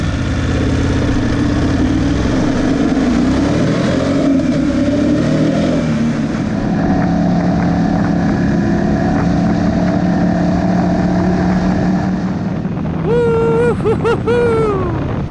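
A 2019 BMW F850GS Adventure motorcycle riding on gravel roads, its engine droning steadily up close with a rising rev near the end.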